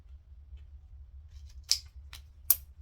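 Scissors trimming double-sided tape on a bucket bag, two crisp close snips standing out over a faint low hum, with no talking.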